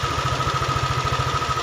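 A Yamaha Aerox scooter engine idles close by with a steady, even putter and a faint electrical whine, the bike having a fault where the electrics cut out when throttled; no talking.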